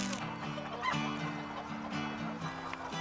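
A flock of over 1,000 chickens on a farm clucks and squawks together, a busy overlapping chorus of calls heard from a short distance, fairly soft.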